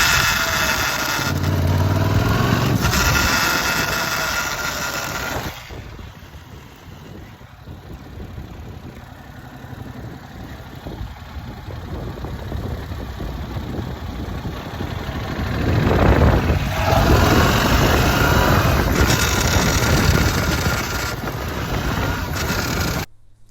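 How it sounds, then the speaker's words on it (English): Brand new 2022 Yamaha MT-07 motorcycle decelerating in gear with the clutch out, a steady engine drone that rises and falls under a gritty grinding roughness, heard close from the bike. "is your MT-07 making sort of a grinding sound when you're decelerating, still in gear, with the clutch out?"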